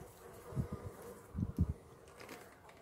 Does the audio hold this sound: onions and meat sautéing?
no